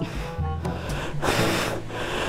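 Heavy, ragged panting close to the mic, breaths rushing in and out in quick bursts with a few snorting gasps.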